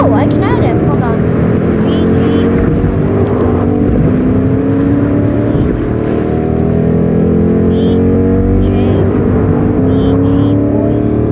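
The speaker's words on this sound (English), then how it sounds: "I get in the truck. And we're just, driving." A truck engine drones loudly and without a break while being driven in a video game, its pitch bending up and down steadily throughout.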